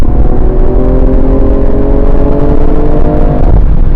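A BMW M340i turbocharged engine accelerates at full throttle, a loud, close, continuous roar climbing steadily in pitch for about four seconds before easing off, with no talking.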